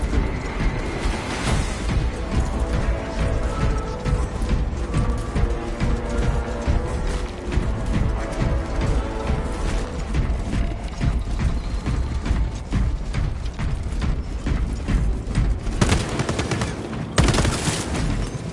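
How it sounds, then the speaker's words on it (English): Rounds being pushed into a gun magazine in a video game, a steady run of rapid metallic clicks and ratcheting snaps that continues loud and dense across the whole stretch, with no voices. "Inserting rounds."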